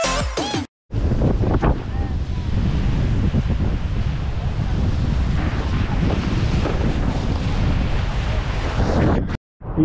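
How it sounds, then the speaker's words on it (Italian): Strong wind while wing foiling on the water buffets the microphone in a loud, continuous roar of rumbling gusts, cutting out briefly twice. "il vento oggi è fortissimo"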